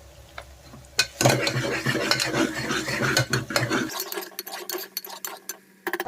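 Onion, ginger-garlic paste and turmeric stirred in a pan for mutton curry: a steady scraping, clattering stir with a light sizzle, close and fairly loud, growing sparser toward the end.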